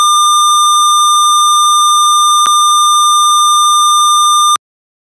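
A smart traffic system's emergency alarm, set off by a detected fault, sounds as a loud, steady, pure electronic tone held for several seconds with two brief clicks, then stops abruptly.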